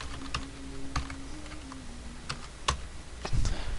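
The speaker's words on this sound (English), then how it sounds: "as you can tell, I'm hammering my keyboard." A computer keyboard is struck in quick, irregular bursts of sharp clacks during a fighting game, close and fairly quiet, building to a heavier cluster of hits at the end.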